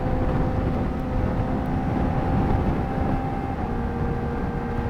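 A Kawasaki ZX-4RR motorcycle rides on the street, its engine holding a steady, sustained tone under heavy wind rush, close and constant throughout with no talking.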